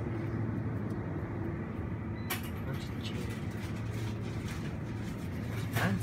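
A car on the road, its engine and tyre rumble forming a steady low drone inside the cabin, with a brief knock partway through and muffled movement near the end.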